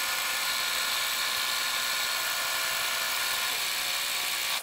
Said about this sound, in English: Now it's going to tack down fabric for the backing piece.